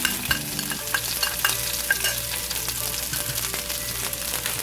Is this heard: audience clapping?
no